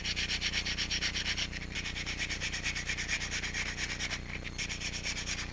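Sandpaper rubbing a balsa wood fishing float makes rapid, rhythmic scratchy strokes, close and steady, with a brief pause partway through and no voices.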